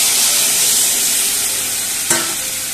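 Water is poured into a sizzling curry in a pan, giving a loud continuous hiss and bubbling with a brief sharp clatter near the end. No voices.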